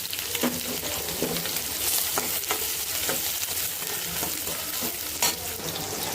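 Onions and drumstick leaves fry with dried red chillies in a pan for a stir-fried greens dish, making a steady, close sizzle broken by occasional stirring clicks and scrapes.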